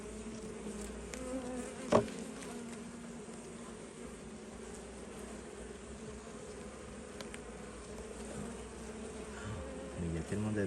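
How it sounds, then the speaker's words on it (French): A swarm of honeybees hums steadily at an apiary hive during a hive inspection, a close, continuous buzzing drone. It is broken by one brief knock and faint rustling near the end. "il y a tellement d'abeilles"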